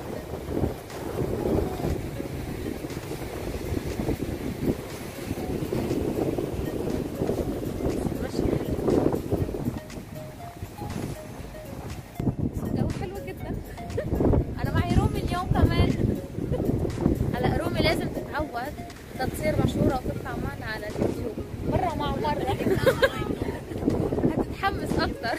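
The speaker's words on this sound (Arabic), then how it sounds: "بصوا الجو الموج عالي النهارده عشان الهواء شديد" Strong wind buffets the microphone at the seashore while high waves crash and surge in a steady, loud roar, with people talking over the rushing noise throughout.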